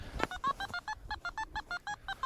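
A metal detector sweeping over a field gives a run of short, clear electronic beeps in a quick regular rhythm, about a dozen pulses close to the ear, with a brief scuff of handling at the start.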